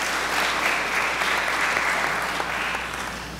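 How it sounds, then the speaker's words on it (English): An audience claps in a steady round of applause for a university concert choir, moderately loud and fading slightly toward the end. "Can we give them another round of applause?"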